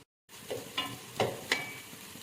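Three sliced onions drop into hot oil and butter, giving a soft sizzle after a moment of silence, broken by a few short scrapes of stirring.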